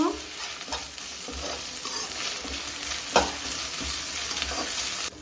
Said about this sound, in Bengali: এবারে আদা রসুন বাটা দিয়ে দিলাম একসাথে বেটে রেখেছিলাম এক চামচ দিলাম আদা রসুন বাটাটা একটু নেড়ে নেব